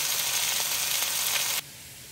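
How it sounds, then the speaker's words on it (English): Steady loud sizzle of arvi (taro root) stir frying in a pan, continuous hiss that drops abruptly to a faint background near the end. "I will just stir fry it. Stir fry it until it is golden."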